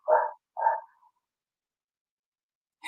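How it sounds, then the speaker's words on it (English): Two short barks from a dog, close together, followed by silence and a brief third sound at the end. "That's my dog barking in the background."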